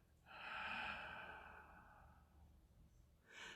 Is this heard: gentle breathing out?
yes